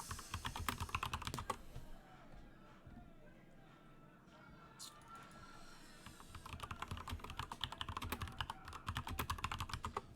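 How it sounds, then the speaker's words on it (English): Rapid clicking keystrokes on a loud, tappy mechanical computer keyboard, close up, in bursts with a quieter pause in the middle, while someone talks over it at times. "It's one of those mechanical keyboards, so it's quite tappy."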